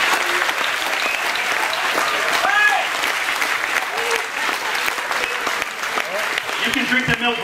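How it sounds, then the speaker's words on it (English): Applause and cheering from a festival crowd at a chilli eating contest final, steady sustained clapping with voices and shouts mixed in throughout. "Give him a round of applause."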